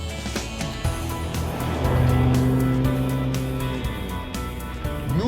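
A 2016 BMW M2 compact sports car drives along, its engine holding a loud, steady tone near the listener, with the revs climbing and the pitch rising for a few seconds partway through.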